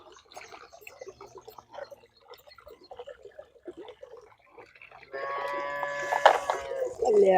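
Cows in a farmyard being watered one by one, with quiet voices and shuffling at first, then a louder, drawn-out lowing call toward the end.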